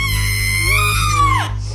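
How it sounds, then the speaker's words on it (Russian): A woman's loud, piercing scream, a sound effect from a dramatized audio story, holds steady and shrill for over a second before its pitch drops away, close and alone. "Пришла в себя от крика матери."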